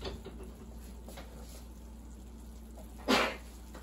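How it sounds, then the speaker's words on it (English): A single short, sharp sneeze bursts out near the end, loud and close, over a steady low hum. "Uh-oh, I gotta sneeze."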